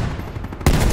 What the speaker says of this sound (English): Firing hand cannon